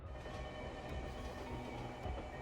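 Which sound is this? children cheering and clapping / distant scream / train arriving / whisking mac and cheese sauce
train arriving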